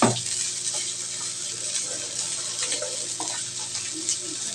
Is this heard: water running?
yes